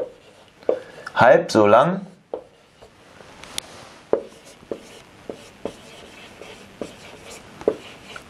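Pen or pencil writing by hand on paper: a string of light, irregular taps and short strokes, heard after a brief spoken phrase.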